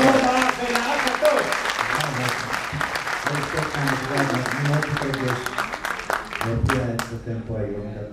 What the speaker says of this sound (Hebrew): קבלו במחיאות כפיים